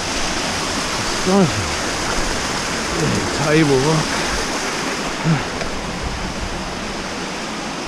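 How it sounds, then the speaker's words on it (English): Water rushes steadily down a creek canyon and waterfall, a loud continuous roar that fills the whole stretch, with someone speaking briefly over it. "Look how much water there is here again."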